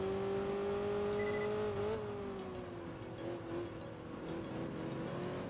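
Jaguar E-Type race car engine in the Enthusia Professional Racing video game, a steady loud droning whine that holds pitch, dips slightly, then keeps revving under other cars on track.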